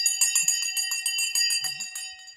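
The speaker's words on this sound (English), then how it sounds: "The bell has gone." Opening bell on a stock market trading floor, a sustained bright electric ring with steady tones, loud and continuous throughout with no talk.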